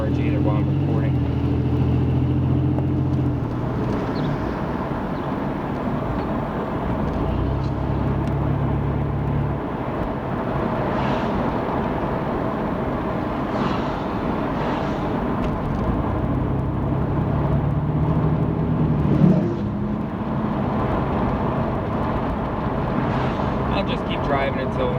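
Interior of a car driving on roads across Monroeville, Pennsylvania: steady engine and road rumble with wind noise, someone talking over it at times.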